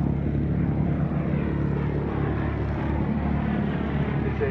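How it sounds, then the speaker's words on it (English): A Lockheed Hudson Mark III piston twin performs a wing over at an airshow, its propeller engines giving a steady, loud, close drone with no pause across the whole stretch. "a Lockheed Hudson Mark III, which is seen here performing an impressive wing over"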